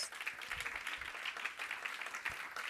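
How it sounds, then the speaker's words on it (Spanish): A church congregation applauds together, steady mid-distance clapping that fills the whole moment without a break and stays even in loudness. "Dale palmas."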